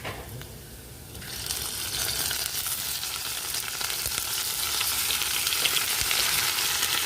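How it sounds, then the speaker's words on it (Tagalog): Garlic and onion fry in a small pot as they brown, a steady, loud, close sizzle that swells after the first second and keeps crackling without a break, with no talking. "I-brown ko muna yung aking bawang tsaka sibuyas."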